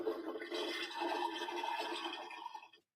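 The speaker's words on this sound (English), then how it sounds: "This gigantic Barbie dollhouse. It makes all kinds of noise, even flushes the toilet." Toy Barbie dollhouse toilet makes an electronic flush sound, a steady rushing gurgle lasting under three seconds before cutting off, faint and close with no talking.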